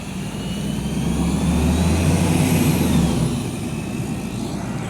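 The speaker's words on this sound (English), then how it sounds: "those short, tiny little buses. And they're louder than the longer size normal buses in New Orleans" A short, small city bus in New Orleans runs its loud engine nearby, a deep rumbling drone that swells as it revs and pulls past, then eases off, with a faint high whine above and no talking.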